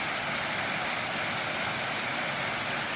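Steady, loud rush of a waterfall close by, a dense continuous roar with no breaks and no talking over it.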